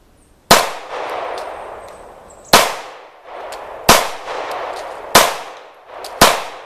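Loud, sharp metallic impacts from a Hi Point C9 compact 9mm pistol, five distinct clacks spaced roughly one to two seconds apart, each followed by a short ringing decay, with no talking.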